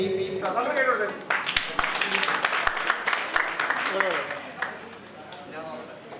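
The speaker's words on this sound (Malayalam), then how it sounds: "എല്ലാരും കയ്യടി കുറയ്ക്കുന്നുണ്ട് കേട്ടോ" Applause from the audience at a Lions Club Onam celebration after a Thiruvathira group dance, a burst of clapping that thins out, with someone talking over it on a microphone.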